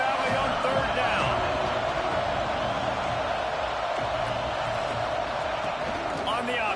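A huge football crowd in Happy Valley roars on a third-down play, a dense sustained wall of cheering and noise that stays loud and even throughout.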